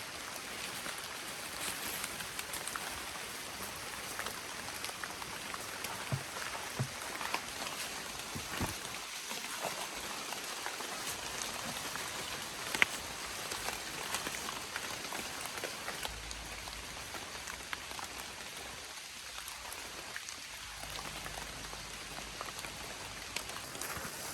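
Rain falls steadily in a forest in Phayao province, Thailand, a soft continuous patter on leaves and ground with occasional heavier drops and faint rustles, quiet and with no voices.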